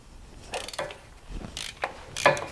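A wrench works on super tight 12 mm bolts on the clutch slave cylinder of a BMW E39 540iT wagon, giving several scattered metallic clicks and ratcheting creaks, close and moderately loud with no speech.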